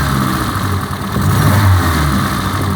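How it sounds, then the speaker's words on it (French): A faulty Peugeot 106 car engine, shaking at idle, revs up close and loud, climbing unevenly with a wavering surge in the middle before settling back toward idle. "on entend bien que le régime il monte pas de façon correcte"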